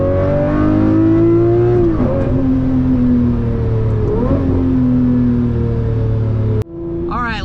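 A Lamborghini Murcielago SV engine pulls loudly from inside the car while driving, its note rising through two gear changes, then cutting sharply near the end as a faint voice speaks over a lower rumble.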